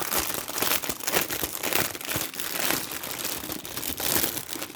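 Crinkly plastic packaging of a diamond art kit is opened, a continuous, close, loud crackling and rustling with no talking.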